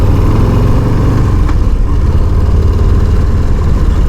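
A 2022 Harley-Davidson Low Rider S motorcycle idling, a loud, close, steady low rumble with a lumpy, even pulse throughout.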